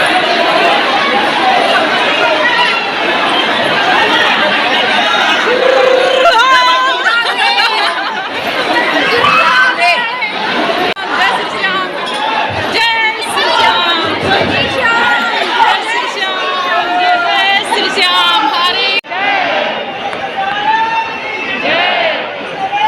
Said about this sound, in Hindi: आज थोड़ी भीड़ बहुत ज़्यादा हो रही थी